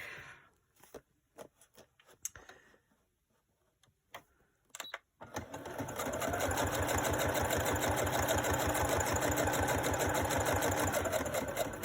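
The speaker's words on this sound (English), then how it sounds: "so I'm gonna go start sewing up here" Sewing machine stitching layered junk journal pages made from book pages: a few short start-stop bursts, then a long, steady, close run of rapid rhythmic needle chatter with a constant motor hum.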